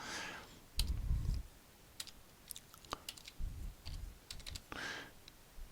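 Fingers type on a computer keyboard while entering bookkeeping data into Excel: irregular bursts of sharp, close clicks and key taps with brief pauses, fairly quiet, with a few soft low thumps and no talk.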